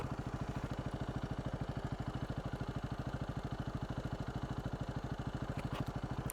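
Dirt bike engine labouring up a sandy hill, a steady rapid thumping pulse held close and fairly loud for the whole stretch, with no talk over it.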